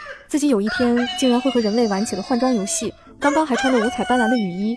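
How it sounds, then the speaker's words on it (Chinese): A chicken squawks and crows in a farmhouse yard in an animated countryside story, with bursts of warbling calls mixed under steady narration. "不一会儿就听见院子里的鸡叫声"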